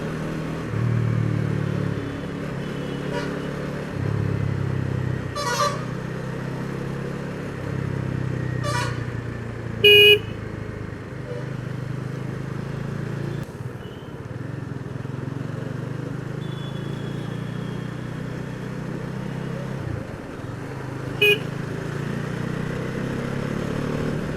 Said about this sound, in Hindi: देखिए कितना ट्रैफिक है इस रोड पे।